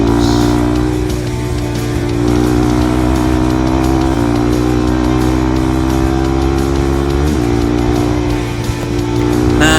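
A trail motorcycle engine accelerating during a night ride on a dusty track in Aceh, giving a loud, close, steady drone that holds throughout with small pitch shifts as the throttle changes.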